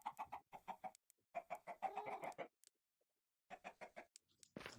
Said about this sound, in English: Excuse the chicken noises, they were really loud next door the entire time